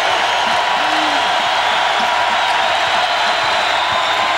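A packed Purdue basketball arena crowd roars continuously during a 1998 game against Indiana, a loud, steady wall of cheering with faint voices mixed into the din.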